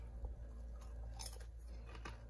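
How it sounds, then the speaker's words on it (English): Close, steady crunching of buttered garlic Parmesan popcorn being chewed, with soft repeated bites and mouth noises running through the whole stretch, no talking. "You hear that crunch?"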